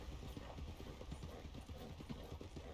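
Steady clip-clop of a horse's hooves on a road in Red Dead Redemption, an even trotting rhythm at close range, continuous throughout and heard without any talk.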